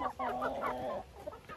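A hen clucks close by in a short burst of throaty, rising-and-falling calls, followed by softer scattered clucks in the background.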